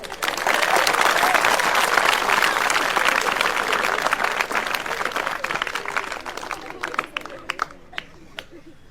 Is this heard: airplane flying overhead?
no